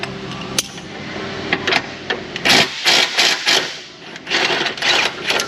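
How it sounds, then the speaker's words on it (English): A ratchet on an extension turns a fastener on a 2016 Jeep 2.4 during transmission removal, giving several bursts of rapid clicking close by, with brief pauses between runs. "and then I can unbolt it."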